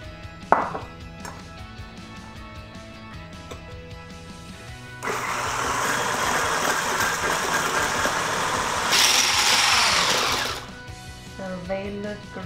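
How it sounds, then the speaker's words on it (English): Eggs and sugar are whisked together in a bowl, a steady brisk rattling that runs for several seconds, louder toward the end, with quieter kitchen sounds before and after. "I'm just going to whisk my eggs together with my sugar."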